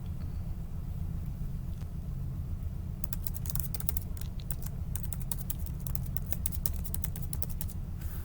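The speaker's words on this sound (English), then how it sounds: "So you'll notice that I'm typing in my username." Keys clatter on a computer keyboard as a username is typed, a rapid irregular run of clicks starting a few seconds in over a steady low background rumble, with no talking.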